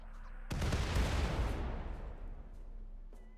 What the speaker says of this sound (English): Hellsphere cannon. That does not sound good.